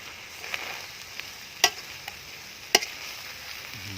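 Red ant queens dry-roast in a pan with a soft, steady sizzle, broken by a few sharp, scattered crackles and stirring ticks close by.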